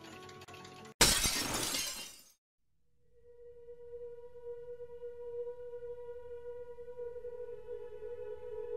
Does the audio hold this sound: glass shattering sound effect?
yes